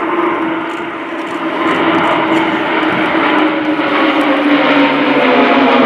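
Swiss Air Force Pilatus PC-7 propeller planes flying in formation at an airshow, a loud, steady droning engine roar that holds throughout with no voices.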